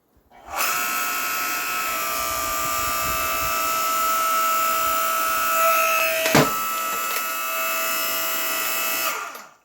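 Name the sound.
electric log splitter splitting a 14-inch log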